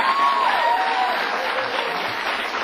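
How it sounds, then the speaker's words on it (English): Audience applause at a televised comedy-list show as a comedian is introduced, a steady wash of clapping with a faint whistle or cheer near the start, gradually easing. "They're applauding for me because I could pronounce it."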